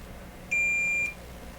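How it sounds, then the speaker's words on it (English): A multimeter set to continuity, probing the chassis of a Hammarlund SP-600 radio receiver, gives one clear steady beep lasting about half a second over faint background hiss. "My meter's on continuity."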